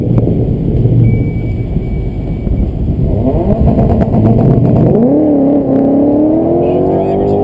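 Race car engines rev and then roar away together off the start line, pitch climbing steadily as they accelerate hard, with a steady roar throughout.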